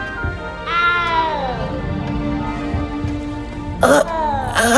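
A frightened little cat gives a rising, drawn-out meow followed by a second cry, close and clear over a faint murmur of background sound.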